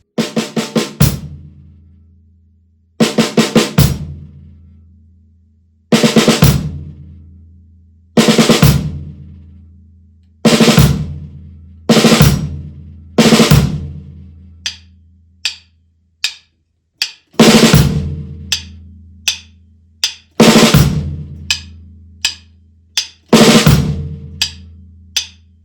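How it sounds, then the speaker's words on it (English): Drum kit groove with five-stroke roll embellishments on the snare, played with hi-hat and bass drum: sharp, loud hits in repeating phrases with short bursts of rolls, each followed by a brief decay, close and alone. "we're going to look at how we can play the 5-stroke roll as an embellishment within the groove."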